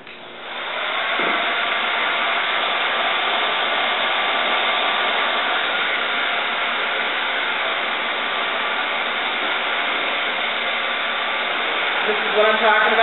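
A hair dryer blows steadily while short hair is styled in a salon, a loud continuous whooshing roar that runs for the whole stretch with a voice talking faintly underneath.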